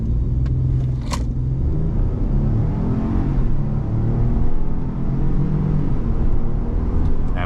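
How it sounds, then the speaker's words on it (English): A 2023 Ford Expedition EcoBoost in sport mode pulls hard from a launch-control start, a steady loud engine rumble and road roar building for several seconds from inside the big SUV. "we're gonna do a quick little launch control"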